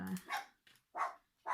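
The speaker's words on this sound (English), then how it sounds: "sorry, that's a dog." A dog barks a few times in short, sharp bursts close by, heard in a quiet indoor setting with no talking over it.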